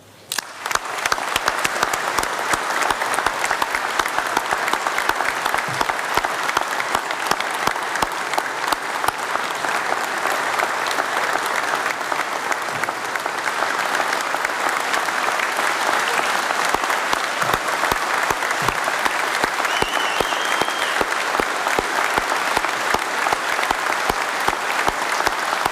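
Graduation ceremony audience applauds at length, a dense, steady roar of many hands clapping that stays loud and even from start to finish.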